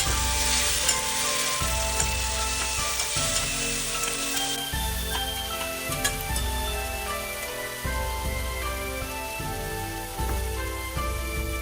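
Tomatoes and eggs sizzle steadily in a hot pan, dressed with light soy sauce, while a utensil stirs and scrapes through the mixture in repeated strokes, loud and close throughout.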